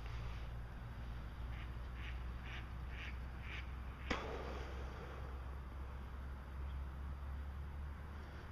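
Ducks quacking outdoors in a string of faint, evenly spaced calls over a low steady background rumble, followed by a single sharp click.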